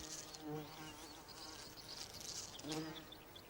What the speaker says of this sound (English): Pollinating insects are abundant at this time of the year, especially furry bumblebees.